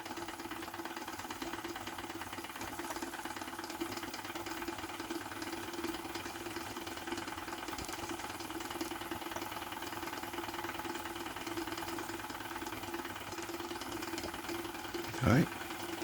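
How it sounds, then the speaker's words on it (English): A Retrol SE-03 live steam engine under load drives a miniature drill through a piece of pine, making a steady mechanical chugging hum throughout, with a short burst of noise near the end. "I can hear the engine under a bit of load"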